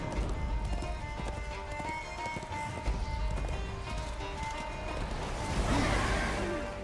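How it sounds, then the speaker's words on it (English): Horse hooves gallop in the action game Darksiders II Deathinitive Edition, a fast, steady clip-clop rhythm close and loud throughout, with a swell of rushing noise near the end. "you can summon and banish your horse so you can ride it or not ride it anytime you choose"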